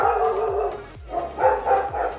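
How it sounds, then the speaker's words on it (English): Several dogs bark indoors in a steady, rapid run of loud, close woofs and yips, the barks overlapping with no talking. "Sorry, don't mind my dogs."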